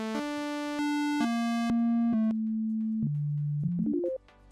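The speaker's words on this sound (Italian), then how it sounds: "oscillatori che possono essere sia di tipo virtual analog, quindi con la classica dente di sega, l'onda quadrata, triangolare, sinusoidale" A Korg microKORG 2 synthesizer plays sustained oscillator tones, stepping between pitches with bright, buzzy harmonics, then dropping lower and finishing in a quick rising run of short notes before cutting off.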